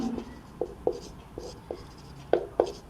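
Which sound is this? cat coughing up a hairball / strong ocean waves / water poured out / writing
writing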